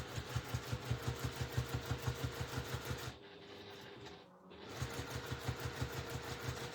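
A sewing machine stitches a placket zip in quick, even bursts of rapid mechanical clatter. It pauses briefly midway while someone says a word, then starts stitching again.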